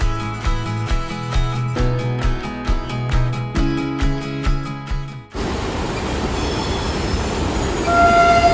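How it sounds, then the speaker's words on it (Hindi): Vande Bharat train passing close by, with rhythmic clattering wheels and a sustained tonal hum, then a sudden shift to a loud steady rushing roar with faint squeals. "ये वंदे भारत ट्रेन, शायद वंदे भारत ट्रेन जा रही है"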